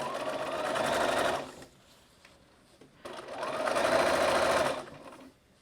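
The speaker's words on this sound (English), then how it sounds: "Back stitch, always back stitch on there." A sewing machine runs in two close, loud bursts of steady motor whirring and needle clatter while back stitching a bag, with a brief quiet pause between them.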